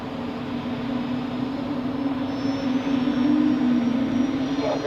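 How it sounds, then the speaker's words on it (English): An Edelweiss airliner taxiing at Zurich Airport, a continuous loud jet-engine whine with a steady droning tone that swells slightly toward the end. "And we have Edelweiss just taxiing in front of the A330"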